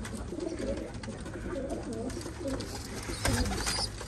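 Pigeons coo steadily throughout, soft repeated rolling coos from a loft of show birds, with a slightly louder burst near the end over a low background hum; no one speaks.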